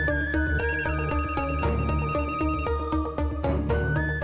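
A loud electronic phone ringtone plays a repeating melodic pattern of bright tones, with a brief dip near the end before it resumes.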